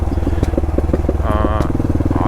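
A motorcycle being ridden on an open road, its engine droning loud and close with a steady, throbbing pulse, while a rider talks over it.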